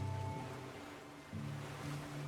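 Sea waves strike and tear at a fragile eroding peat shoreline, a continuous rushing wash of surf with a swell midway, heard close and moderately loud under a faint low hum, with no talking.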